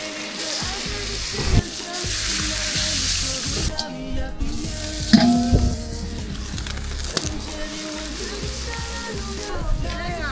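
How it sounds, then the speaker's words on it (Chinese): Vegetables are stir-fried in a wok over a wood fire in a rural kitchen. A busy hiss of frying runs under scraping and clanking of the spatula, with brief bursts and occasional voices in the room. "你来炒菜烧火了啊"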